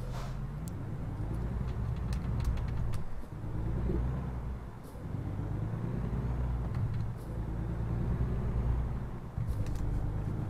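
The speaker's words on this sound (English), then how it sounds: "that's some good acceleration on that truck" Heavy truck engine in American Truck Simulator droning steadily as it accelerates, a deep continuous rumble with a few brief dips, no talking.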